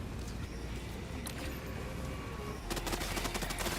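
Rapid automatic gunfire crackles in the Helldivers II video game amid dense battle noise, a steady wash of shots and impacts that swells into a louder burst of closely spaced bangs toward the end.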